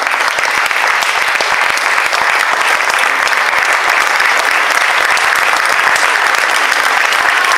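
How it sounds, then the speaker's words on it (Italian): Audience applause at the close of a choir concert during the September festival in Lanciano, 2017: loud, dense, steady clapping from a large crowd, sustained evenly throughout with no talk over it. "Se continuate ad applaudire, forse strappo anche un bis."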